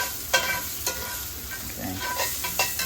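Zucchini sizzling in a pan while being stirred, with a steady fry hiss broken by a few sharp scraping strokes of the utensil, close and moderately loud.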